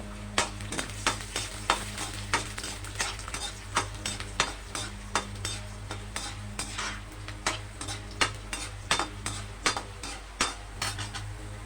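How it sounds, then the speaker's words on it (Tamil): Urad dal dry-roasting in a pan over a medium flame, with steady stirring that gives repeated rhythmic scrapes and clinks of the spoon against the pan and a faint sizzle underneath, close and moderately loud. "அதையும் அது கூடயே போட்டு ஒரு வறுத்துக்கலாம்."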